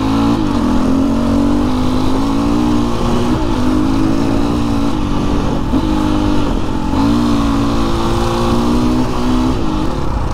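A BHR 300 R Enduro motocross bike runs close and loud along forest trails, its engine droning steadily with repeated throttle rises and dips as it rides on, and no voices are heard.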